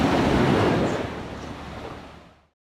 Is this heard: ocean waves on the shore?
yes